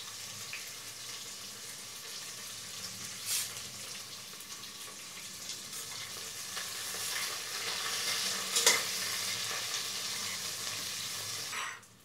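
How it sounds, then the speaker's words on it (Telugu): Green chillies and onions frying in hot oil while being stirred in a pan, a steady close sizzle with occasional scraping stir sounds, no talking. "ఒక 5 పచ్చిమిర్చి వేస్తున్నాం."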